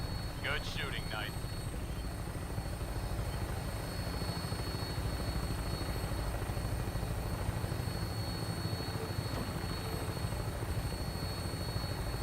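A steady aircraft rotor and engine drone, close and unbroken, marks a takeoff in the video game Fallout 4, with voices faintly present beneath it.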